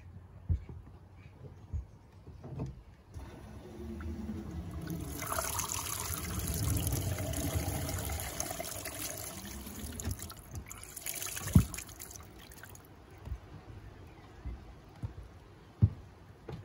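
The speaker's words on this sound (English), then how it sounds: "now I'm just going to go and run some water down it" Water poured or run down newly fitted washing machine drain plumbing in a shed, trickling and gurgling steadily for several seconds with a few sharp knocks near the end.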